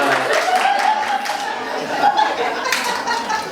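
Clapping and chuckling from a comedy show audience in a small venue, a loose scattered burst of applause mixed with laughter and crowd murmur.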